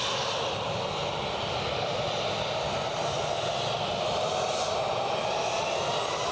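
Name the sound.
KLM aircraft taxiing into the siding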